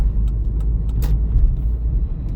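A car driving and turning along a city driving exam route, a steady low engine rumble heard from inside, with a short sharp click or squeak partway through.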